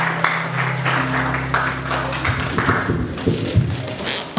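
A church congregation applauds during a consecration service, giving steady layered clapping and tapping that swells after a sustained low tone fades.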